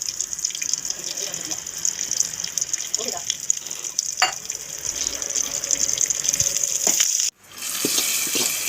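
Shallots and curry leaves frying in hot oil, a continuous bright sizzle heard close up that briefly cuts out near the end, with faint talk in the background.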